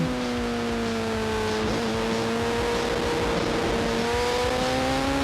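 Racing motorcycle engine at Grattan Raceway during a WERA endurance race, screaming steadily at high revs close up, pitch climbing and dropping as it accelerates through a gear change.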